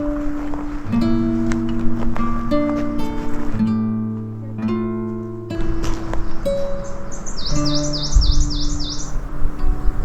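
Many species of birds sing together in the forest meadows of Rama, a busy chorus of whistled notes and chirps with high trills toward the end, close and clear.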